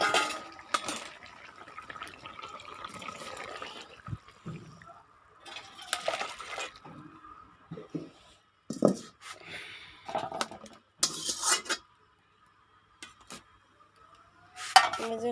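Cooked pangas fish curry being served from the pot: intermittent scrapes and clinks of a ladle against metal, with short pauses and soft wet stirring sounds between, fairly close and quiet.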